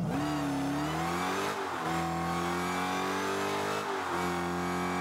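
A Dodge Charger Hellcat engine revving in the car-soccer game Rocket League, a continuous loud growl whose pitch climbs and then dips twice as the throttle is worked, with no voices.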